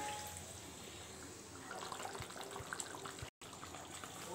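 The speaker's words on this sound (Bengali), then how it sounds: "একটু জল দিয়ে দিচ্ছি।" Water poured into a pan of hilsa (ilish) fish curry, making a soft, steady trickling splash close by that continues through a brief dropout.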